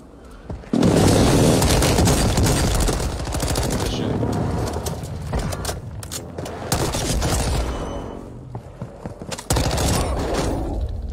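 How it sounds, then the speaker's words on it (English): Video game airstrike explosions and heavy gunfire, loud bursts of booming blasts and rattling fire that cut in abruptly and repeat across the clip, with brief lulls between volleys. "Friendly airstrike in the AO."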